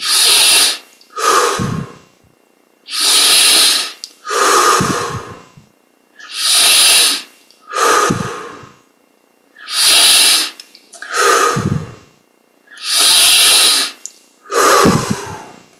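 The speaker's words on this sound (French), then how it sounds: "On augmente l'amplitude des respirations." Slow, deep breaths during a yoga meditation exercise, loud and close: about five long inhale and exhale pairs in an even rhythm, separated by brief silences, with no talking.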